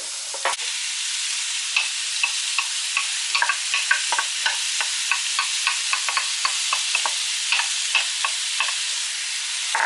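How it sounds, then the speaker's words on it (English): Onions and garlic sizzle steadily in a hot pan, a bright continuous hiss dotted with small crackles and pops, close by with no talking. "Got that sizzle."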